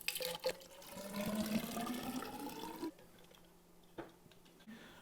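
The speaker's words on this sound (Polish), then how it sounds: "Przygotowałem zimną wodę z kawałkami lodu i wlewam do cylindra z niebieską podstawką." Cold water with ice chunks pours and splashes into a cylinder with a blue base for a few seconds, then stops, followed by a couple of light clinks and taps.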